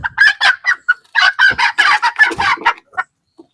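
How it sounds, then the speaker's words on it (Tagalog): A wild junglefowl (labuyo) rooster gives a rapid string of loud, close clucks and crowing calls in quick bursts, trailing off into a couple of quieter notes at the end. "Siya yung wild chicken."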